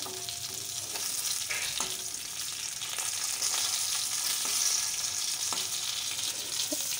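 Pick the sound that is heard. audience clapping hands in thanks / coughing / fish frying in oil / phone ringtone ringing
fish frying in oil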